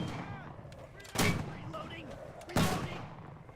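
Two heavy mortar blasts land a second and a half apart in Enlisted, each a sudden booming thump that fades out slowly over ambient battlefield noise while a voice talks faintly.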